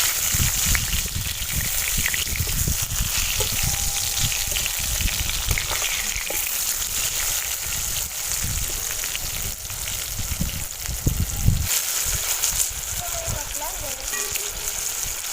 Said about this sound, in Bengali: এক সাইড ভাজা হয়ে গেছে বেগুনগুলো